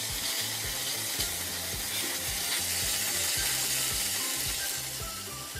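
Potato chunks for a vegetarian dum aloo fry and sizzle steadily in oil in a pan, with a continuous close crackle and rhythmic scraping as they are stirred.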